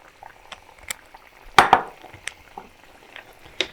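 Chopped onion tipped into a pan where duck is roasting in Kerala spices, a sudden loud sizzling splash followed by scattered faint clinks and crackles of cooking.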